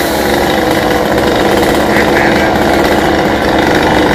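A chainsaw roars loudly and steadily while cutting xà cừ tree branches leaning over a house roof, the engine held at high revs the whole time with no voices.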